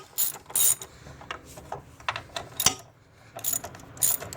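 A hand ratchet clicks in several quick bursts as bolts are loosened on the engine of a 2013 Hyundai Sonata 2.4L, with close, sharp pawl ratcheting and a louder clank partway through.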